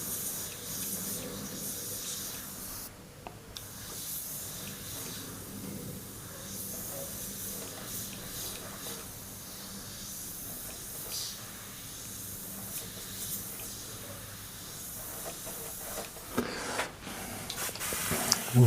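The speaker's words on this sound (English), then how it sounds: "Just sort of sketching out with the airbrush." An airbrush spraying paint while sketching out a pinup girl illustration, a steady soft hiss running continuously at low level, with brief louder bursts of spray near the end and no talking.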